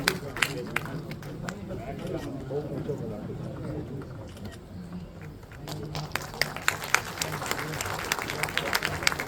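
An audience claps at an honouring ceremony, sharp scattered hand claps that swell into denser applause toward the end, heard alongside a voice speaking over the crowd.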